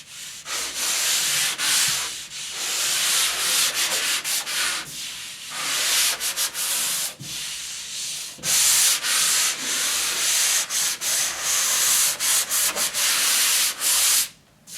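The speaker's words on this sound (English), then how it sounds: "We'll give it just a light sand, get rid of any edges or any high spots," Light hand sanding of a drywall patch before the fourth coat, a steady dry scratchy rubbing in continuous strokes with brief pauses, close and fairly loud with no talking.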